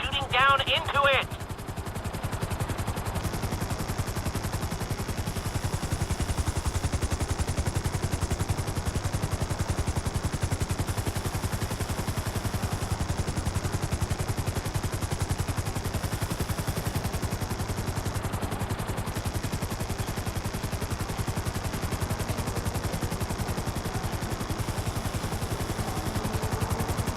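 GTA 5 helicopter hovering, a steady rotor drone holding throughout at moderate level, with a brief burst of gunfire at the start.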